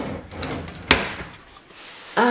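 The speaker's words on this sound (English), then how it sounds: "You have some drawers over here," A wooden drawer in an apartment bedroom slides and knocks, with one sharp click-thud in the middle amid quiet room sounds and a tonal noise at the end.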